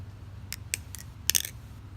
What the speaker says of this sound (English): This knife, like, the sound is just, like, absolutely perfect.